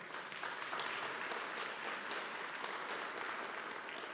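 Applause from the audience at the HASP annual business meeting, a sustained wash of many people clapping at once, even and moderately loud from start to finish.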